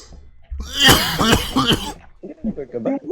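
Several loud, close coughs burst out in quick succession during an online game, followed by short bursts of talking.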